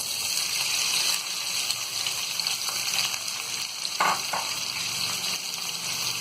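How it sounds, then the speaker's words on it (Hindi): Sliced onions fry in hot oil with whole spices in a pan for chicken tikka biryani, a steady close sizzle throughout with a couple of brief stirring scrapes. "प्याज को हम गोल्डन ब्राउन होने तक फ्राई करेंगे।"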